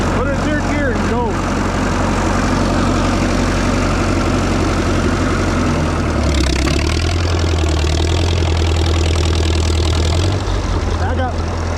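A ZAS vehicle engine pulling in third gear while plowing runs loud and close, its low drone rising and shifting in pitch partway through, with voices talking over it.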